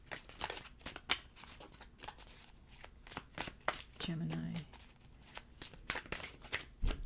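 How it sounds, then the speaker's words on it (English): Tarot cards are shuffled up close in quick, crisp riffles and flicks, repeated throughout, with a soft voice speaking briefly partway through. "I'm going to shuffle one more time"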